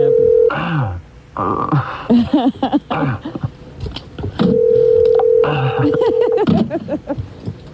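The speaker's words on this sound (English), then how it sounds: "We definitely dialed the right number." A telephone number is dialed, with bursts of dial tone and tone beeps that come and go among voices from a 1990s radio show studio, loud and close.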